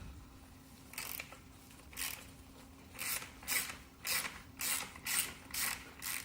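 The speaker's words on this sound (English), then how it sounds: "So we'll loosen the axle nut, the 17 millimeter." A 17 mm wrench loosens the axle nut on a bicycle wheel, producing a series of quick ratcheting clicks in short bursts, roughly one per second and speeding up toward the end, close and fairly quiet.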